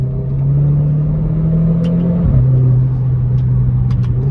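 A Renault Clio 4 RS Trophy fitted with a full exhaust drones loudly from outside the car, its steady engine note briefly dipping at a gear change before settling back into a constant rumble.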